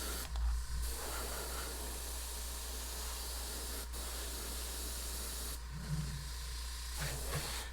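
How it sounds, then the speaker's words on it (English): An airbrush sprays paint onto a model, a steady close hiss with short pauses as the trigger is released and pressed again. "This is a pain to airbrush with y'all."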